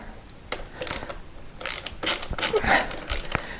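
A ratchet works loose the bolts on a Honda Transalp XL600V plastic radiator cover, giving close, quick bursts of clicking pawl turns with short pauses between them and no speech.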